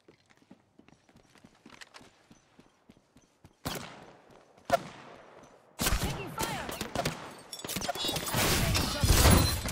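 Gunfire in a shooter video game: sparse soft clicks and taps give way to a sudden loud volley, then sustained, dense rapid shooting that grows louder and busier toward the end.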